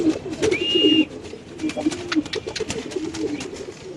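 Indian Hyderabadi pigeons coo in low, soft, repeated throaty calls near at hand, with a brief high whistle early on, clicking noises and someone talking over them.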